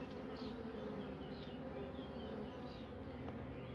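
Honeybees buzz in a dense, continuous drone around a beekeeper working a hive, close and steady throughout with no pauses.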